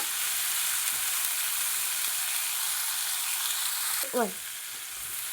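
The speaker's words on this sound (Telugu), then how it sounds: "టమాటాలు, వంకాయ ముక్కలు, దోసకాయ ముక్కలు, పచ్చిమిర్చి అన్నీ ఇవి కొంచెం సేపు మగ్గాలి." Tomatoes, eggplant pieces, cucumber pieces and green chilies for a vegetable chutney cook in a pan with a steady, soft frying hiss, briefly interrupted by a short clatter near the end, with no talk.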